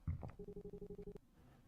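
A doorbell in a horror video game rings once with a quick buzzy electronic trill of rapid even pulses, close and fairly quiet, cutting off into a faint hum.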